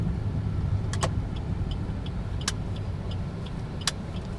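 Toyota Avanza car moving slowly into a parking area, a soft steady engine and tyre hum with a few faint ticks and clicks, no talking.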